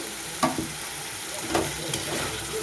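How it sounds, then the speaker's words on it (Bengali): Mutton frying and being stirred in a thick spice masala in a pan, with a steady sizzle broken by a few distinct scraping stirs near the start and middle. "এবারে দিয়ে দেবো মটনটাকে দিয়েও কিছুক্ষণ আমি কষিয়ে নেব"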